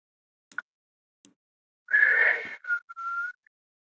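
A person whistles a few short, clear notes after some faint clicks, with one longer warbling tone followed by two brief notes, close and fairly quiet with no talking.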